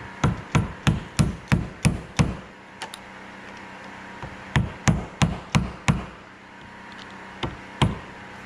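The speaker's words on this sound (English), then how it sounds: "what I've been doing is driving this small screwdriver under the edge to get an opening" A small screwdriver hammered under the edge of a hydraulic lift cylinder seal from a Case 450C bulldozer: two bursts of about seven rapid, evenly spaced sharp knocks, then a few single taps, close and loud.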